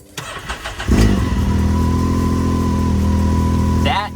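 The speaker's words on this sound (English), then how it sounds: "Let's turn it on." A 2018 Can-Am X3 DS 64-inch UTV on its factory exhaust cranks briefly, then catches and settles into a loud, steady, throaty idle that stays close and continuous, with a faint voice early on.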